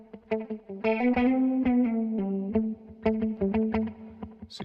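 An effects pedal gives a warm, lo-fi, retro tone to a plucked melodic line, sounding as a run of distinct notes with a chorus-like wobble, loud and up front with no voices.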